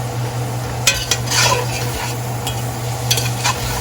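Creole seasoning, thyme and oregano being stirred into a pot of jambalaya, with a few sharp scraping clinks of the spoon over a steady low hum and faint background sizzle.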